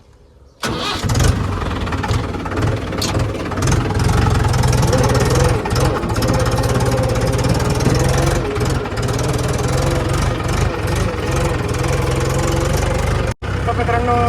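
A tractor engine, the tractor loaded with chicken manure, starts up and settles into a steady, loud, chugging idle close by, running continuously to the end.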